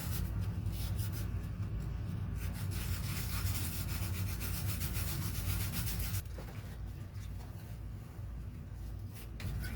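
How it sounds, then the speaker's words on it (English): Close, steady rubbing of 120-grit sandpaper against the edge of a Moebius Proteus model kit part from Fantastic Voyage, continuous for about six seconds and then a little softer and thinner. "I'm just going to spend a minute or two cleaning off the edge of that with a little 120 grit"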